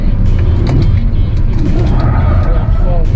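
An MG hybrid SUV is driven fast into a corner, and its engine and road noise run loud and steady while someone talks over it throughout.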